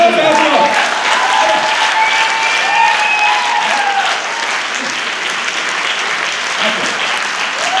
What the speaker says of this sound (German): das ist dein Applaus, Arthur